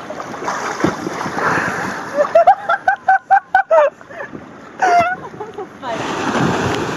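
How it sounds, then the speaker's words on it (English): Waves break and wash at a Cyprus shore, a broad surging hiss that swells at the start and end, with gentler water sloshing in between and excited voices talking over it. "Waves."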